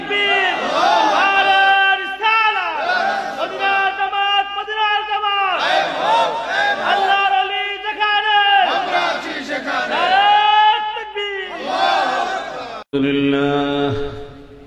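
A large crowd at a religious gathering roars a takbir chant in unison, several loud rhythmic shouted bursts answering one another, with a brief pause before a final swell.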